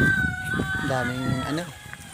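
Chickens cluck briefly nearby, a short burst of calls over quiet outdoor background noise.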